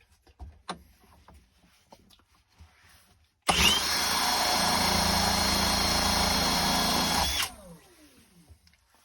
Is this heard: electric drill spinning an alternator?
yes